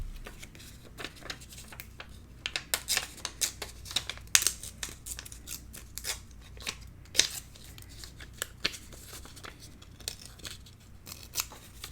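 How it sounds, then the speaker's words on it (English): Vellum paper being torn by hand for a mini album pocket, a quiet run of irregular crisp ripping and crinkling bursts, close and alone with no voices. "Okay, let's tear that."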